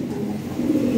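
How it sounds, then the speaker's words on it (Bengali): A big Lahori Sherazi pigeon coos in a low, continuous rolling murmur, close and moderately loud throughout, with no talking. "খুব ভালো কোয়ালিটি কবুতর এটা"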